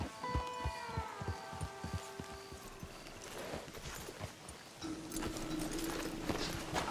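In the Red Dead Redemption 2 game, horse hooves clip-clop in a steady rhythm on a road, mixed with tones and other game sounds later on.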